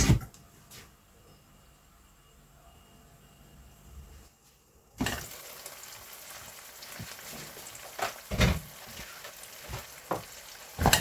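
Shrimp, tomato and pasta water sizzle in a frying pan for black squid-ink pasta, a low quiet hiss that turns into a steady, louder frying crackle with a few clanks and stirring knocks.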